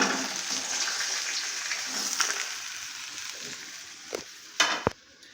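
Fish heads frying in hot oil in a pan, a dense steady sizzle that slowly fades, broken near the end by a couple of sharp clatters of utensils against the pan.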